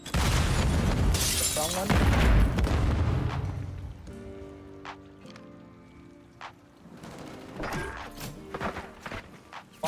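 Grenade explosions in a first-person shooter video game: a loud burst of booming blasts and crackling debris at the start, then quieter gunfire clicks and a few sharp cracks, with a brief spoken question partway through.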